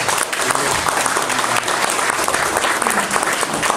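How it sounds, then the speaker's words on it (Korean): Vigorous, sustained applause from attendees at a disability sports policy workshop held by the Gyeongbuk sports association, a dense, loud, even clatter of many hands close by. "여러분 고생하셨는데 한번 크게 한 박수 한번 부탁드립니다."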